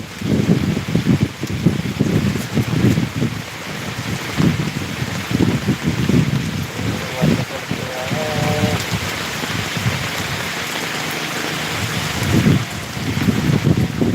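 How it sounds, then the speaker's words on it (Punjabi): Heavy rain falls on a Punjabi village, a loud, steady wash of drumming drops on surfaces, with a brief tonal whine midway and surging gusts throughout, no one speaking. "ਬਹੁਤ ਜ਼ਿਆਦਾ ਮੀਂਹ ਦੇ ਨੇ ਪੈਂਦੇ"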